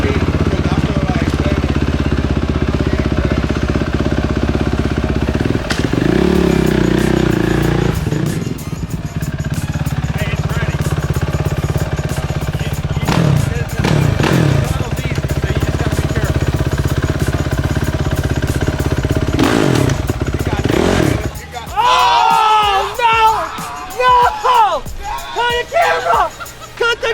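Suzuki motorcycles warming up, engines revving loud and rough with rapid, harsh pulsing and surging throttle blips, then dropping off near the end as voices and scattered noises come through.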